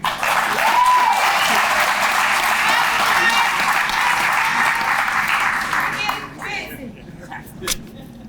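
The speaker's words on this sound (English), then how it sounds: "A round of applause, please." Steady audience applause for police officers at a community police awards ceremony, a full dense roar of clapping with some children's voices mixed in, then thinning to a few claps.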